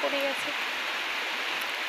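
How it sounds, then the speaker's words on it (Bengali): Light drizzling rain falling on a garden area, a soft, even hiss of fine drops with a brief faint voice-like sound at the very start. "এখনও বৃষ্টি হচ্ছে, মানে ঝিরিঝিরি বৃষ্টি পড়েই আছে"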